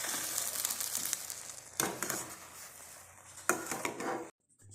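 A lid clatters down onto a pan of freshly cooked rava kesari, two clear metallic knocks over the faint stir and scrape of a home kitchen, then silence.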